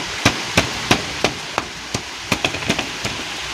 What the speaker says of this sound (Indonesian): Sekarang nyembal dulu.